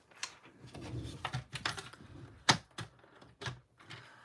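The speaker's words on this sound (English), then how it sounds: "I'm going to bring my trimmer in here so I can score this." A paper trimmer fitted with a scoring blade runs across a small piece of cardstock, 3 by 2¼ inches, scored at ¾ inch: quiet scattered clicks and knocks, with one sharp snap near the middle and no talking.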